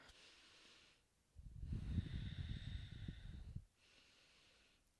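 Deep, slow breathing during a standing yoga flow: a quiet inhale, then a longer, breathy exhale lasting about two seconds, followed by another soft inhale, close and faint.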